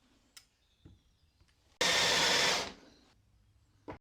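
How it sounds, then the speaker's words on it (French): A short burst of a hole saw drilling wood, loud and close, lasting under a second amid quiet handling noises. "On prend une scie cloche"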